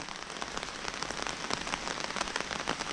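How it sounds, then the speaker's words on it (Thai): Rain falls steadily on a surface, a dense continuous patter of drops close by with no voices. "นี่ฝนตกนะ"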